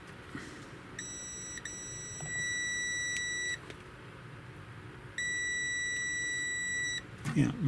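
Continuity test beeps from an Owon HDS2102S handheld oscilloscope multimeter probing a thermal fuse: steady tones lasting a second or two each, repeated several times with short gaps, close and clear amid quiet handling sounds.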